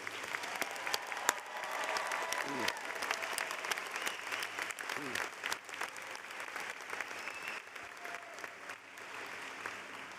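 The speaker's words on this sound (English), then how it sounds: "Let's give these graduates one more round of applause, please." Applause for graduates at a commencement ceremony fills a large hall, a steady wash of many hands clapping at moderate distance for the whole stretch, with occasional louder claps nearby.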